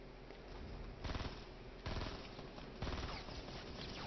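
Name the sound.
gunshots in the video game Fortnite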